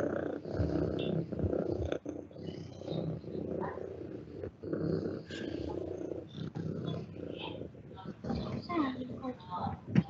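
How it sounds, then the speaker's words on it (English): A cat purring in soft, rhythmic rumbling waves close by, with some quiet talking mixed in. "The noise that the kitty makes is called a purr."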